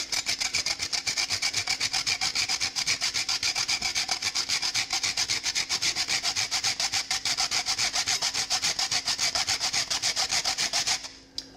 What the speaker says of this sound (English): grate jalapeno into the bread instead of having full chunks